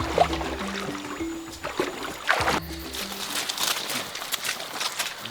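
A motorboat travels along a river, its faint, low engine drone coming and going beneath soft splashing and rushing water.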